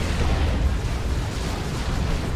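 Heavy artillery shells of a Frenzied Barrage pound the battlefield in Dawn of War 2, a dense, continuous rumble of overlapping booms and bursts, loud and close throughout.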